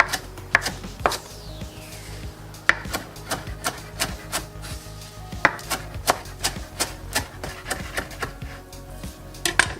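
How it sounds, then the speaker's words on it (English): Kale leaves chopped very small on a board with a knife, a rapid series of sharp, close thuds in uneven bursts, with a quieter pause and then faster rhythmic chopping, no talk. "we're gonna chop them very small."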